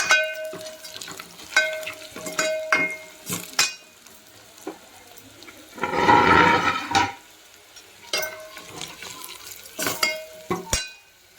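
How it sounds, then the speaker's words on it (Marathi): Grated coconut frying in a pan gives off intermittent sizzling bursts, with one loud rushing sizzle in the middle and scattered clinks and scrapes of stirring around it. "खोबरंही तळून घ्यायचं आहे."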